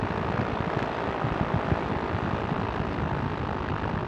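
An ultralight aircraft engine throttled back to about 4,000 rpm for landing, a steady close droning buzz with wind rush, continuous and unchanging throughout.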